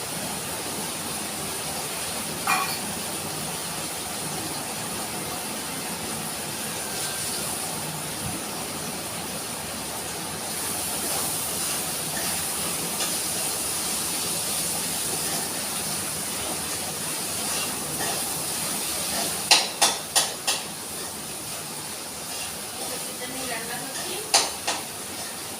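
Dried fish frying in a pan with onions for a Bengali shutki dish: steady hiss and sizzle with occasional metallic spoon clinks and scrapes against the pot, a bit louder toward the end.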